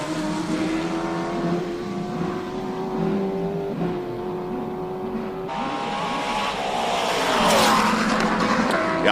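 A 5-litre Shelby Can-Am race car engine roars steadily at the Simola Hillclimb, then revs harder and louder as it accelerates past, with a brief tire squeal.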